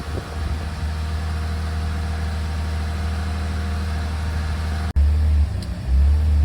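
BMW E46 330ci engine idling at operating temperature with slightly uneven RPM, a close, steady low rumble that briefly cuts out and returns near the end.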